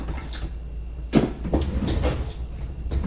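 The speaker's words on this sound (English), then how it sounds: "whoops, I can't shut my drawer" A drawer is pushed and sticks without shutting, giving a couple of sharp wooden knocks and scraping rattles close to the microphone in an otherwise quiet room.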